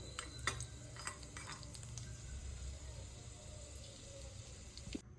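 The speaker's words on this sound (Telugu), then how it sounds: "ఇది మెల్లగా నెయ్యిలో ఫ్రై చేసుకుంటున్నాను" Edible gum (gond) frying slowly in ghee in a pan, a soft steady sizzle with light stirring scrapes and a few brief clinks, close and quiet with no talking.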